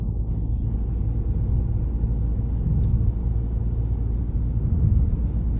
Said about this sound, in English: Now we're going to drive in.